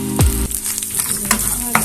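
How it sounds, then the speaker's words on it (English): Small omena fish fry in a shallow layer of oil while being stirred, with a loud sizzle and scraping strokes of a utensil at a close, steady level. "Then you can add some oil to start the frying process."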